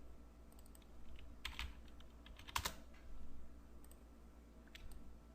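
Keys clatter on a computer keyboard in short, uneven bursts of light clicks, close and fairly quiet, with small pauses between groups of strokes.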